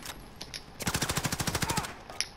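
A gun fires in the shooter game Modern Warfare as one rapid automatic burst of about a dozen evenly spaced cracks, preceded and followed by a few scattered single shots, fairly quiet in the mix.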